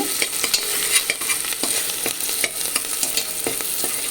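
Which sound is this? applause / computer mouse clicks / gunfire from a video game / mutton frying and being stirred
mutton frying and being stirred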